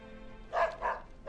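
A dog barks in the video game World of Warcraft, giving two short, close woofs in quick succession, then the start of a third, over a faint hum.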